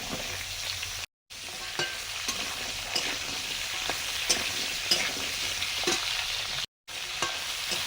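Mixed vegetables, including stems, potato and taro root pieces, frying in hot oil with panch phoron, a steady broadband sizzle with stirring scrapes, continuous and fairly loud with no talking.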